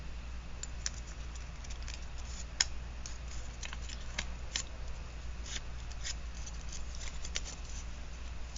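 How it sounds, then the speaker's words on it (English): Paper torn by hand for a collage, heard as faint, scattered crisp rips and ticks over a low steady background hum, with a few sharper snaps. "Let's see if I can tear it."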